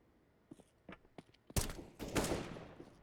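Gunfire in a competitive Counter-Strike match, with faint footsteps and light clicks first, then a loud close volley of rifle shots from an AK followed by a second echoing burst.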